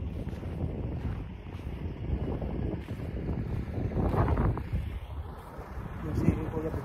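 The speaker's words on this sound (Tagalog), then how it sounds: "Sarap ng hangin, sakto lang yung lamig niya." Wind rushes and buffets steadily past the microphone on a road trip by truck, a broad low roar that rises and falls for several seconds.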